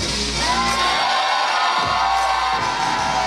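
A wrestling crowd at a live event cheers and whoops loudly, the roar swelling and dipping in waves as a wrestler makes an entrance.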